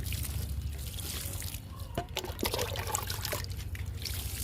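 Water is poured over okra seeds planted in a tub, a soft continuous trickle and splash heard close by over low background rumble, with no one speaking.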